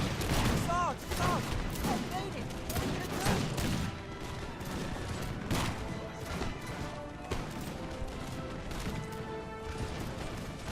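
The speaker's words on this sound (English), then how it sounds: "So they're going to get off the first volley." Musket volleys in Napoleon Total War come as a dense, continuous crackle of massed fire, with crashes and battle noise layered throughout.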